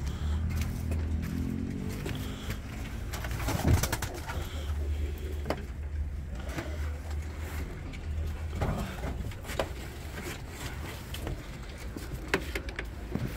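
Low, soft pigeon cooing repeats in short bursts close by, with scattered rustles and light knocks around the birds.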